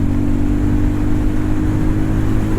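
Hero Maverick 440 motorcycle accelerating in third gear, a steady droning engine note with strong low harmonics and constant loudness, heard up close while riding.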